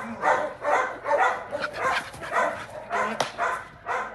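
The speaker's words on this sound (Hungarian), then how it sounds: "Milyen cucus kis kutya." A small dog barks repeatedly in quick, bright yaps, close and fairly loud, with short pauses between bursts and no talk over it.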